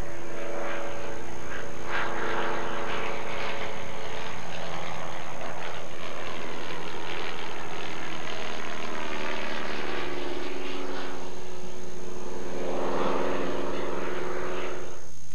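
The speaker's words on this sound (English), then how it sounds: "Let's take a look at some aerobatics done on the 65 horsepower Avid Speedwing." A 65-horsepower Avid Speedwing light aircraft flies aerobatics, its propeller engine droning steadily throughout and swelling louder as it passes near, then easing back into the distance.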